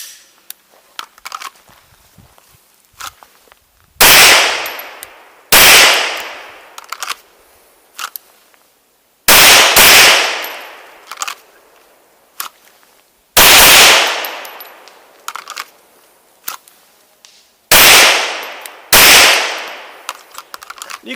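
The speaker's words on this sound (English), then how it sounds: "I'm just going to draw, present, engage. I'm just going to shoot 1 or 2 rounds." A Smith & Wesson M&P 2.0 with a 5-inch barrel fires at a shooting range: loud, sharp pistol shots come in quick pairs, about nine in all, with quiet handling noises between strings.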